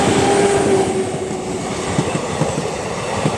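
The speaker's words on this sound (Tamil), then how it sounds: "ஒரு ட்ரெயின் வந்து விசில் அடிச்சு வருது" A train bound for Erode approaches on a village railway track. A steady whistle tone opens over a loud rumbling, clattering roll of wheels on rails that continues close by.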